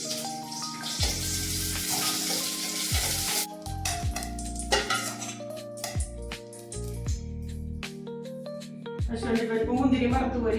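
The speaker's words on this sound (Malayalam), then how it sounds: "ആ നെയ്യിലേക്ക് ഞാൻ സേമിയ ഇടുന്നു കേട്ടോ" Vermicelli (semiya) drops into hot ghee in a pan for milk payasam and sizzles steadily while it is stirred, with clattering utensil knocks throughout and a person talking at times.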